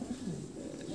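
King pigeons cooing, soft low rolling coos close by over a steady background hiss, with no talk.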